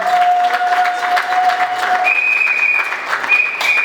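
Wedding guests at a Congolese wedding applaud steadily in a room, a dense continuous patter of many hands, with a steady electronic tone humming through it.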